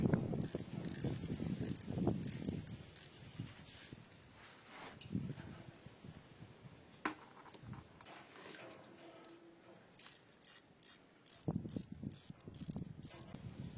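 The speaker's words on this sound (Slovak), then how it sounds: "Uvoľníme 2 skrutky, ktoré držia prírubu." A ratchet tool clicks in quick bursts, loosening the two bolts that hold a coolant flange on a Škoda Octavia 2 1.9 TDI with a coolant leak; close and moderately loud, with some quieter handling noise between bursts.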